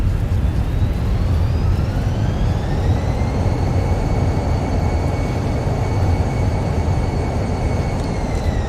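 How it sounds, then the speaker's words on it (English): Fenix A320 thrust reversers deploying on landing in a flight simulator: a loud, continuous broadband roar with a whine that rises in pitch, then holds steady. "Reverses are out."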